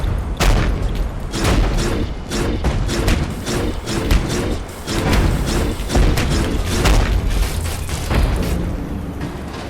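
Grenade explosions in the video game Abiotic Factor, a dense run of loud booming blasts and thuds following one another almost continuously for about ten seconds, with no talking.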